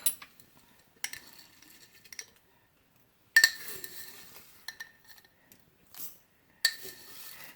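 A spoon scoops dehydrated black beans into a glass jar, producing light scattered clinks and rattling pours in a few separate bursts with quiet gaps between them.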